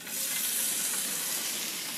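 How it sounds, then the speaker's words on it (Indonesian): Crickets frying in hot margarine in a pan, a steady dense sizzle and crackle close up, loud and continuous for the whole two seconds with no talking. "Jangkriknya guys, kita goreng dulu ya."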